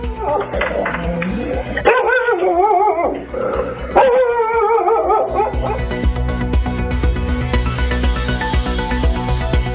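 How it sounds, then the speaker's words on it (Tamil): A dog barks and yips repeatedly in a residential area near Ooty where a leopard is prowling. The close, insistent barking mixes with whimpering and other sound, and a voice speaks over part of it. "நாய் இடைவிடாமல் குறைத்ததால் ஏமாற்றத்துடன் திரும்பியது."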